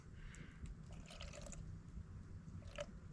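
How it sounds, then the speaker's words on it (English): A small shot of water is poured into a camp pan holding eggs, giving faint liquid splashes and drips over a quiet outdoor background. "We're gonna need just a shot of water."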